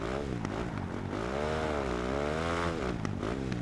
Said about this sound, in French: le son de la moto, les petits craquements derrière quand on lâche l'accélérateur